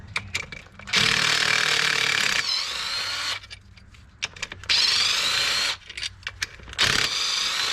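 Power tool whirring in several loud bursts with pauses between, used on a bolt on a 1996 Ford F250 with a 7.3 Powerstroke diesel engine; close and dominant, with clanks in the gaps.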